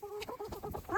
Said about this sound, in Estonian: Kõik kana jookseb oma koju.